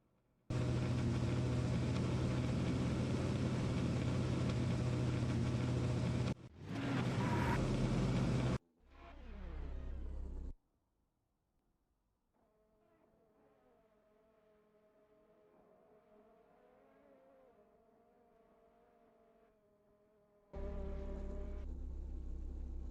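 Race car engines in a SimTC sim racing game at Chang, a loud steady drone that cuts out abruptly, then faint engine tones before the roar returns near the end.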